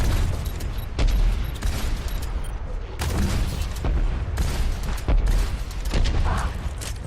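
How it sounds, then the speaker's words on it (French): Rocket launcher fire in the video game Overwatch, a dense run of booming blasts and explosions with mechanical clatter, loud and continuous across several seconds. "Lui, il tire des espèces de lance-roquettes."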